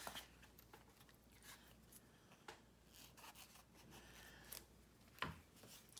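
Scissors snip through foam in a quiet mixed-media craft session, giving soft, irregular rubbing and scraping cuts spread across the stretch with a few sharper clicks near the end.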